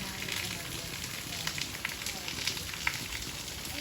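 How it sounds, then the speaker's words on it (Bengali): Rain falling during sunshine in a village with mango and jackfruit trees, a steady diffuse patter with scattered louder drops, heard while a person is out with an umbrella and someone talks in the background. "রোদ উঠেছে, বৃষ্টি পড়ছে"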